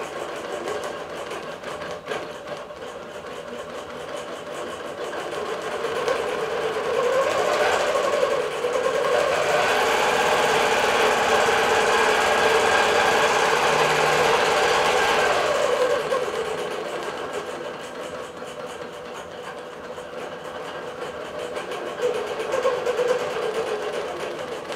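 A Bernina Q24 longarm quilting machine runs digital quilting stitches in a steady mechanical hum and rapid stitching buzz. It swells louder through the middle stretch and then eases back to a softer run, with no voices.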